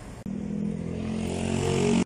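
A 110cc minnie enduro motorcycle engine runs steadily and close, with a buzzy tone that swells slightly as it goes and stops abruptly at the end. The motorcycle is old and in rough condition, missing flashers and mirrors.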